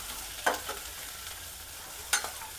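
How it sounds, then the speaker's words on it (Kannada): Curry leaves and onions frying in a pan hiss steadily and moderately close by, broken by two sharp spatula scrapes about a second and a half apart. "ಕರಿಬೇವಿನ ಸೊಪ್ಪು, ಈರುಳ್ಳಿ, ಫ್ರೈ ಆಗಬೇಕು ಒಂದು ಸ್ವಲ್ಪ"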